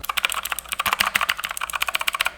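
Rapid typing on a Razer Huntsman gaming keyboard with clicky switches: a dense, fast stream of sharp, loud clicks from nearby, with no voices over it.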